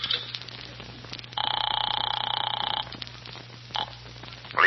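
An old-fashioned telephone rings once in a long buzzing burst, with quieter clicks before and after and a faint steady hum underneath.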